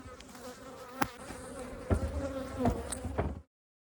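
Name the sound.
honey bees buzzing at swarmed hive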